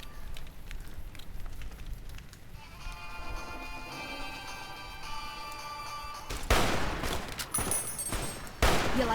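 Gunfire in a video game on a GT 730 graphics card, a burst of loud sharp shots toward the end over a steady game soundtrack with tonal music, a faint voice briefly present.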